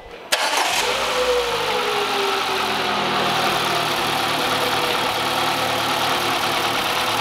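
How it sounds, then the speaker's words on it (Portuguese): A Peugeot 208 engine cranks and starts after a short silence, then settles into a steady, fairly loud idle that carries on alone with no talk. "agora eu vou ligar o veículo e vocês vão ver como é que ele se comporta"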